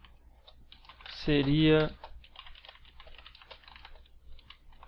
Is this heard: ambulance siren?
no